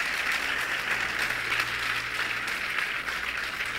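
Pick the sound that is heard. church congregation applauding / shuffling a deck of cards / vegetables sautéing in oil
church congregation applauding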